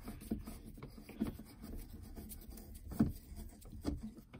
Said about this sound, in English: the screws in mine are Phillips head, so I just get a Phillips head screwdriver